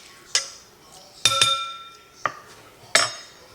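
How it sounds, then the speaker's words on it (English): A glass jar, such as a canning or used pasta jar, clinks sharply four times at uneven intervals, close and fairly loud, with bright ringing tones in a quiet kitchen. "Okay, so I've just got a jar."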